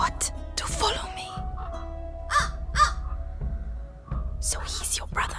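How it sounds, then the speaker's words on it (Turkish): Crows caw a few times in the video game A Plague Tale: Innocence, short harsh calls spread across the scene over game music and character voices. "karga sesi çıkıyor artık"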